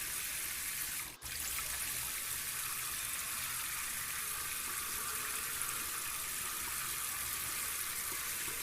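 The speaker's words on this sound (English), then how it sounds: "And you hear the water just running. It's trying to fill up this water tank." Tap water runs steadily into a water filter tank as it fills, a constant hissing rush that carries on evenly throughout with only a brief dip near the start, and no talk.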